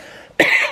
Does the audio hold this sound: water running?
no